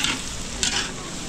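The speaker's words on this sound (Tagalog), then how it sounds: "hayaan muna natin pumula yung bawang sibuyas natin" Garlic and onion sauté in a pan for a beef kaldereta, hissing steadily while a utensil stirs with a brief scrape and bump partway through.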